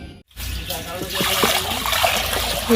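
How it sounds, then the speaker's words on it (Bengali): Meat being washed under running water splashes and trickles in a kitchen after a short silence, with faint clinks and some talk over the steady flow. "যে মাংসটা এখন ধুয়ে নিচ্ছি"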